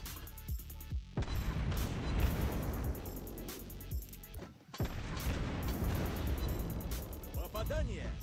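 Naval gunfire and shell hits from the warship Yueyang in World of Warships Blitz: a dense, loud, continuous barrage of booms and crashes, briefly easing once, with a game announcer's voice speaking over it.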